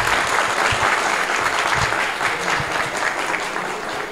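Studio audience applauding to welcome guests onto a stage, a loud sustained burst of clapping that stays steady and then eases slightly, with no talking over it.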